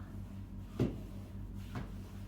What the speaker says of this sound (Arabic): سكرت الباب.